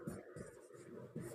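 Pen scratching on paper in a continuous scribbling rhythm while a maths answer is written out in a class, close and fairly quiet, with no talking.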